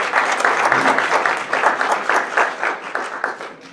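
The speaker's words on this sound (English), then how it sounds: "Everybody just give him a round of applause." Audience applause at a recruiting meeting, a dense roomful of clapping hands that stays steady and fairly loud for several seconds, with a faint voice or two underneath.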